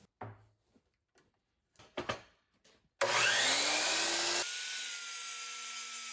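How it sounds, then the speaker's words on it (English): A miter saw cuts a wood board with taped ends to length. A few light handling knocks come first, then the motor whines up loudly and the blade bites through with a rough tearing rasp before spinning on alone. "I went over to the miter saw to cut it to length"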